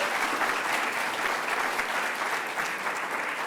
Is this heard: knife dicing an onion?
no